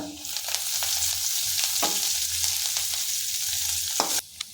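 Spices and coriander fry in a pan for a fresh tomato dish, producing a close, continuous sizzle with scattered pops and a brief stirring scrape near the end, no voices.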